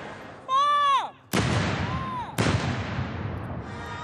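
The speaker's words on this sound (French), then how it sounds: "Pendant que dans Londres, 124 coups de canon sont tirés." A brief rising tonal call, then two loud cannon salute booms in London about a second apart, each one echoing and fading out slowly.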